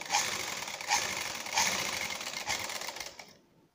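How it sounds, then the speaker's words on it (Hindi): A sewing machine runs close by, stitching thread piping onto a fabric strip with a fast, even mechanical whirr and a few soft rhythmic thumps before it stops. "इसको और पट्टी को खींच के हमने सिलाई लगानी है"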